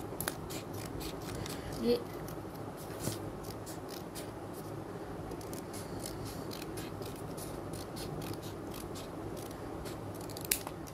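Scissors snip a paper flower petal in a quiet room, with a series of small, faint crisp cuts scattered through and a few sharper clicks, while someone talks softly in Hindi.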